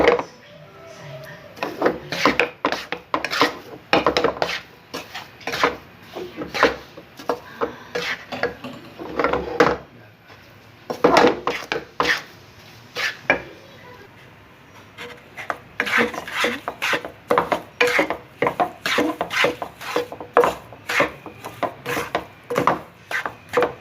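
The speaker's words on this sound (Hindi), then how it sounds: "चीनी डालने के बाद इसको चलाते रहना है" A spoon stirs besan burfi mixture with sugar in a pan, producing repeated scraping and rubbing strokes in an uneven rhythm, close and fairly loud, with a few short pauses between bursts.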